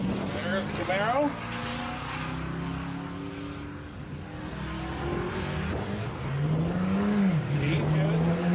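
Chevrolet Camaro race car at the TX2K21 roll race: engine roar building and sweeping upward in pitch as it accelerates, mid-distance, with crowd and commentary voices underneath.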